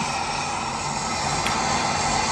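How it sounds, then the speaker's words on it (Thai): A steady, broadband airplane engine drone rumbles continuously in the PUBG Mobile video game while players wait to jump, loud and unbroken, with no talking. "เครื่องบิน"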